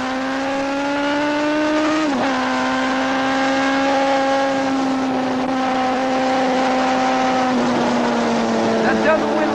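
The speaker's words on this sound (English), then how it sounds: "I'm coming out of turn 9, I'll pull a wheelie for you." A racing motorcycle engine screams at high revs while pulling a wheelie out of turn 9 at Laguna Seca. The loud, sustained whine holds steady and dips briefly at gear changes.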